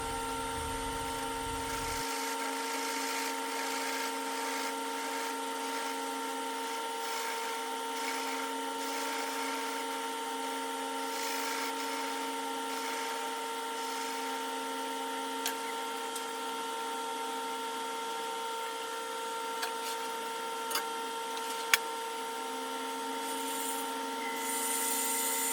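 Shop vacuum running steadily throughout while final lathe cuts and sanding are made on a wooden bowl with red epoxy repair; a constant droning hum with faint tool scrapes and a few small ticks, no talking.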